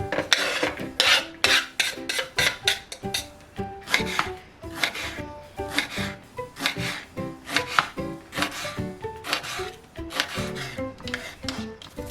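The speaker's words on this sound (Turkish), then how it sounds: "Kırmızı biberlerimi doğrayacağım." A knife chops red peppers steadily on a cutting board, with rapid repeated crisp strikes in irregular bursts, close up and with no talk.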